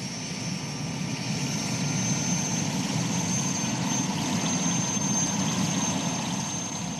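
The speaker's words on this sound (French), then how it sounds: "Aux abords de la présidence et de l'ambassade, les hélicoptères font la navette" Engines drone steadily as aircraft shuttle near the presidency and embassy, a constant loud whine and rumble with no breaks and no speech.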